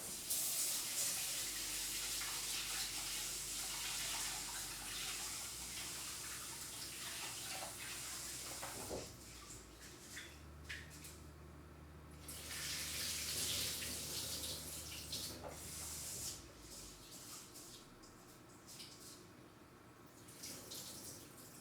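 Tap water runs steadily and splashes while jasmine rice is washed in a kitchen, a continuous close hiss and gurgle that briefly eases and swells again, with no talking.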